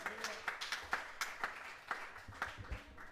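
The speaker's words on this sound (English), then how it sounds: "How about a round of applause for Mr. Michael Barton on bass?" Scattered audience applause at a jazz quartet performance, honoring the bass player; fairly sparse, uneven claps, moderately close, with faint talk.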